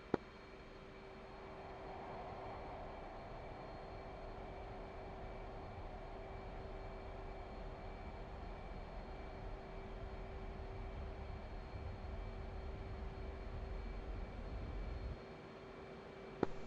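An F/A-18C jet takes off in a flight simulator game, giving a steady, fairly quiet engine roar with a faint constant hum. The drone holds evenly for over fifteen seconds, then drops off near the end, with no voices.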